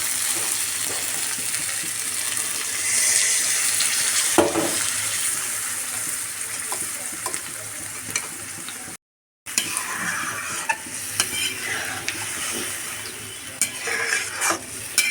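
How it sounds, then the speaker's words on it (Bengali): Fish and potato curry simmers in a pan as broth goes in and a spoon stirs it, giving a steady close sizzling hiss with scattered clinks and scrapes, briefly cutting out midway. "ঝোল দেওয়ার পর নেড়ে চেড়ে আবার এটাকে রান্না হতে দেব।"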